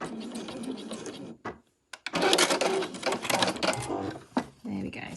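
A sewing machine back stitches the edge of a bunting flag in loud, close bursts with a short pause in the middle, the motor whirring and needle clattering.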